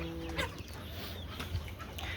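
Desi hens and chicks on a poultry farm cluck faintly and intermittently amid a dense, constant background of farm noise and low hum.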